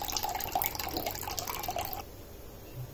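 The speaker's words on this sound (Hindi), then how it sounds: "हम ये फुल क्रीम मिल्क इसमें 1 लीटर डाल देंगे।" Full cream milk pours into a kadai already holding a little water, a steady close splashing trickle for about two seconds before it stops and the sound drops to a faint hiss.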